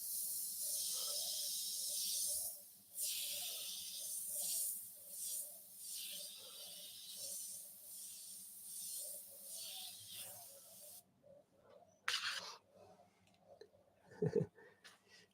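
An airbrush sprays paint in a long steady hiss broken by short pulses, close and continuous for about eleven seconds, then stops and gives way to a few brief bursts and a knock.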